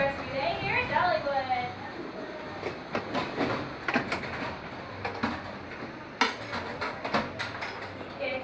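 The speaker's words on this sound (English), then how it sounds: "the train comes into Lee's Stop Pool now" A Dollywood roller coaster train rolls into the station with metallic clanks, rattles and rhythmic clicks of the cars, close by and moderately loud, while people talk over it.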